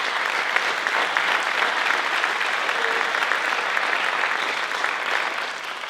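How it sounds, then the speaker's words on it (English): An audience at the 2021 Lenoir-Rhyne Hall of Fame ceremony gives sustained applause for Hall of Fame inductees, a dense, even patter of many hands that holds steady for several seconds before easing slightly at the end. "let's give them a round of applause"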